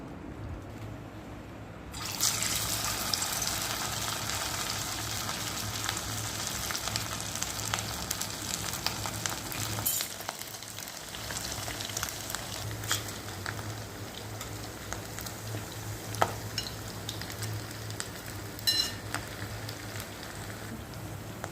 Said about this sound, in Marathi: असे हे आपले वडे तळून तयार झालेले आहेत